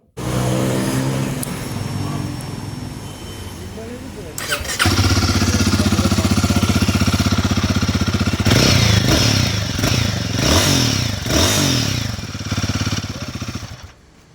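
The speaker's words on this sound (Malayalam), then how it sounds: "നമുക്ക് ഇതിൻ്റെ എക്സോസ് നോട്ട് കൊണ്ടൊന്ന് കേട്ട് നോക്കാം" A Royal Enfield Guerrilla 450 Apex, sharing its engine with the Himalayan 450, idles with a steady thump, then its exhaust note rises into louder, sustained running with several sharp revs before cutting off.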